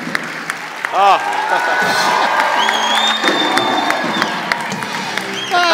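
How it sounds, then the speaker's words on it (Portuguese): An interview audience breaks into loud applause and cheering, with whoops, shouts and lively clapping blending into a busy crowd roar while voices call out over it. "uma salva de palmas."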